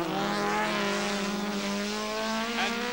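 A 1980 British Rallycross Championship car at Lydden Hill accelerating away, a loud, steady, droning engine note held for a few seconds with a slight rise near the end, no talk over it.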